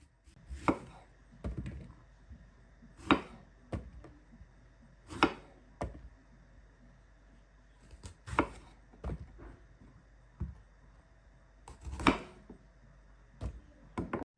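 Knife cutting small eggplants on a board: sharp, separate chops, some in quick pairs, spaced irregularly over a quiet background, close and clear, no talk.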